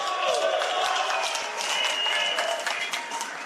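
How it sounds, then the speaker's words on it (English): Audience applause at a Bitcoin summit, a dense wash of clapping and crowd noise that stays loud and steady throughout, with no clear voice on top. "can we just get a round of applause for the President of the United States?"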